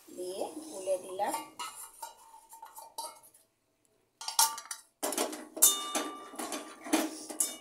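Spoon clinking and stirring cornflour into water in a bowl while making chilli potato, a series of light close metallic taps and scrapes with brief pauses, louder bursts near the end.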